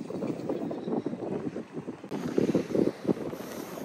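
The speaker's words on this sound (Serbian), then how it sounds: "mnogo duva vetar ovdje sad." Strong wind gusting at a seaside bay in Montenegro, buffeting the microphone with loud, uneven rumbling bursts that swell and ease throughout, no voices.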